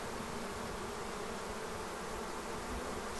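Honey bees crowd a jammed hive entrance during a swarm install, producing a dense, continuous buzzing drone that holds steady and fairly quiet throughout, with no voices.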